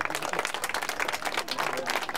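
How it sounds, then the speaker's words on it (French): Crowd at an October 2000 mountain bike relay race event applauds a winner, steady dense clapping throughout with a voice over it. "Et vos applaudissements, bien sûr, pour Jonathan Parzi"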